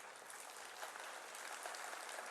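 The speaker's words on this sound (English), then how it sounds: "Big round of applause to all of them." Faint, distant audience applause at a university achievers day ceremony, steady dense clapping from a large crowd heard softly throughout.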